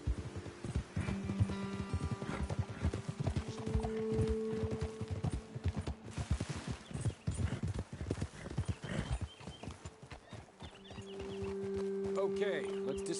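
Horses' hooves clip-clop steadily on a trail in the video game Red Dead Redemption, with rapid rhythmic footfalls, an occasional whinny and some talk over them before the hoofbeats slow.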